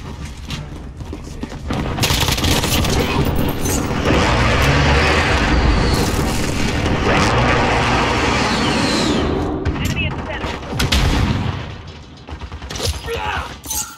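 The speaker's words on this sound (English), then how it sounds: "Enemy precision airstrike. Take cover." In Call of Duty: Modern Warfare gameplay, a precision airstrike and gunfire erupt as a dense, sustained roar of explosions and shots, loud and chaotic for most of the stretch before easing near the end.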